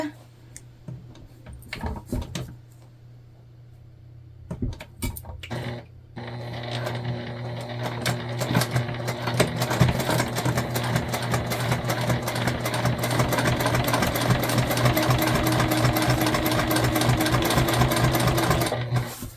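A sewing machine stitching the seam of a multi-panel tote bag, a steady rapid mechanical whir and needle clatter that starts and stops briefly, then runs continuously and loud close by, with a low motor hum underneath.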